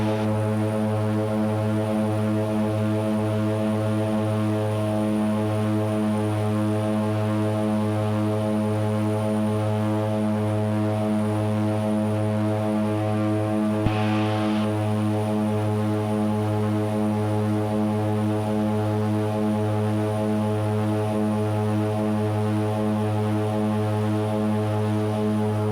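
Twin Otter turboprop on its takeoff roll for skydiving operations, a loud steady propeller and engine drone with strong constant tonal hum running throughout, close and unbroken.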